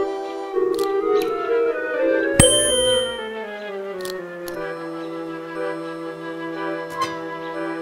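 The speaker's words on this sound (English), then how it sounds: "There must be another way to make the bell ring." Strength-tester bell at a fairground in the PC adventure game Willy Morgan and The Curse of Bone Town, a bright struck ding with a sharp hit and ringing tones that slowly fade, a few lighter ticks following.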